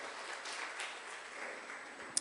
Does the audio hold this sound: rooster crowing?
no